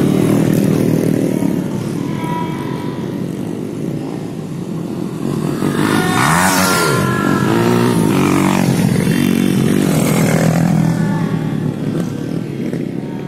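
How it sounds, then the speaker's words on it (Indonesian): Motocross motorcycles pass along a muddy dirt trail, engines rising loud as one roars close by mid-way, then revving and fading while others buzz in the distance. "beberapa motor yang sempat melintasi saya di trail"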